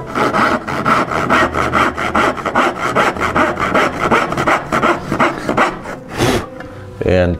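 A hand saw cuts a half-blind dovetail in wood for a drawer of a Chapin high chest, making steady, rhythmic rasping strokes up close that stop briefly near the end.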